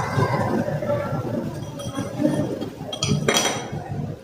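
A spoon clinks and stirs against a glass as lumps of jaggery are dissolved in liquid, with repeated light clinks and a brighter ringing tap near the end, fairly close and with no talk over it.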